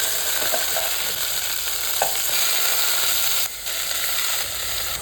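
Cut potato frying in hot oil with mustard seeds, a steady close sizzle with occasional stirring clinks and faint crackles throughout, no voices.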